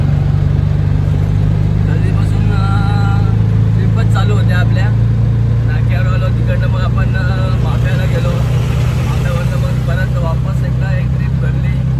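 An auto rickshaw's engine idles with a steady low hum and revs as it is started and driven out, while a person talks throughout.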